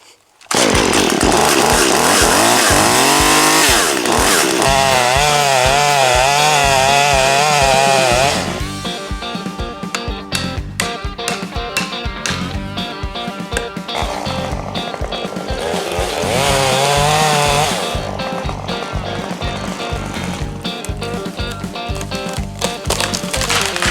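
A chainsaw cuts into buckthorn trees, making hinge cuts to drop them, at an elevated spot along a property line. The engine roars loud and close, then drops into a bogging, pulsing cut and revs up again, running steadily with no talk.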